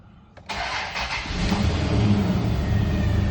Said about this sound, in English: And it fired up.